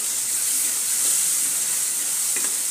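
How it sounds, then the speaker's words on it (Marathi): Garlic, ginger and green chillies sauté in oil on a tawa for a brinjal bharit, giving a steady, even sizzle and hiss throughout with no talking. "आता हे सर्व साहित्य परतले गेले चांगले तेलामध्ये"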